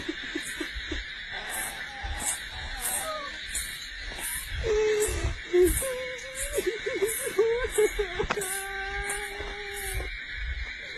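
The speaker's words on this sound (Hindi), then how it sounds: "रोने की आवाज सुनिए।" Wavering, high sobbing cries in a Hindi horror story recording rise and fall over a hissy background with a steady hum, and faint rhythmic tinkling runs through it.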